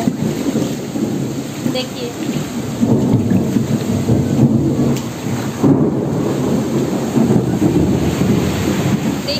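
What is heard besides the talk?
thunder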